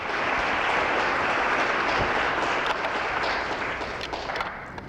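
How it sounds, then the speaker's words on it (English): Dense audience applause, many hands clapping steadily at once, loud and sustained before gradually thinning out. "May we have another round of applause for Mr. Robinson for that fine poetry."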